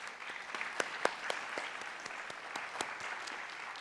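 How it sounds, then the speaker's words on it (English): A modest round of applause at a university honors colloquium, quiet and fairly distant, with separate claps distinct in a thin, even patter from a small audience. "Let's have a little round of applause for them."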